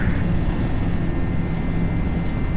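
An Airbus A321 jet takes off in a flight simulator, its steady, loud engine roar and broadband whoosh holding without a break, with no talk over it.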